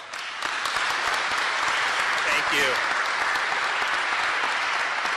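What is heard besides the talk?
audience applause for a governor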